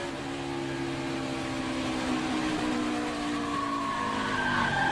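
Onboard a 2020 NASCAR Cup Series race car as it loses grip, tires squealing and skidding over a loud, steady engine drone; no distinct impact stands out.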